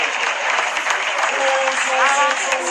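Loud, dense audience applause greets a singer taking the stage at a televised show, a steady wash of clapping with crowd voices mixed in.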